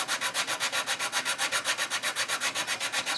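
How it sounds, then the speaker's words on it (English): The rough side of a sanding stick rubs steadily back and forth along the channel between the propeller shafts on a 1/350 USS Missouri BB-63 model hull, giving even, rapid, close scratching strokes. "just going to again use a rough side of my sanding stick"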